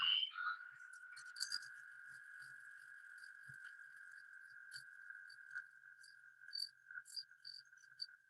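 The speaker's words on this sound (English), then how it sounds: "Let's hear a toad sound like." A toad calls with one long, steady high trill that runs unbroken for several seconds, fairly close, with faint rustles and ticks around it.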